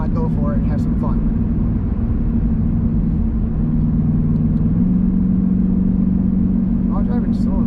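An SRT car engine drones steadily up close, its pitch stepping up partway through, with muffled voices over the rumble.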